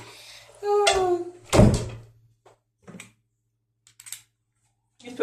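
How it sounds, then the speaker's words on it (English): A broken door handle being fitted back onto a door gives a heavy thunk and rattle, then a few faint clicks and taps of metal parts in an otherwise quiet room. "Just put my door handle back on a minute."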